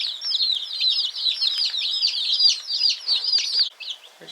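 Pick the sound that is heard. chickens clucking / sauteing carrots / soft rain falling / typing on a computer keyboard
chickens clucking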